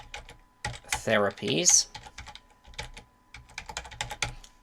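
Rapid clicking of computer keyboard keys in quick bursts throughout, close and distinct, briefly interrupted by someone speaking a word.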